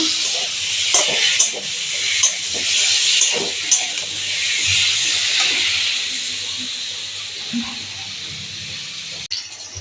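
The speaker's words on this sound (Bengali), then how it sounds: "মাছ ও পেঁয়াজ রসুনটা ভেজে নিচ্ছি।" Fish frying in hot oil with onion and garlic, a steady loud hiss and sizzle with occasional spatters and pops throughout, no talking.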